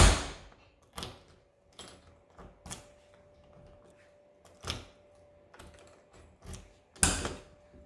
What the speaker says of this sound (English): Open and latch, they lock closed.